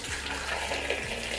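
Hot water pours into a cooking pot of pork intestines for boiling, a steady gushing splash throughout, close and even in level.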